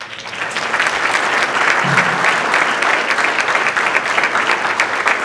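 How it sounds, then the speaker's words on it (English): An audience at a Route 66 VIP breakfast gives a steady round of applause, dense and fairly loud, continuing evenly without talk for the whole stretch. "another round of applause"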